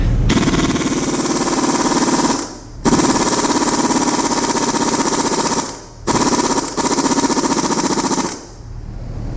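An impact wrench rattles loudly in three long bursts, with brief pauses between them, as it works on a stubborn bolt to remove the spider from a 1982 Mack R686ST truck.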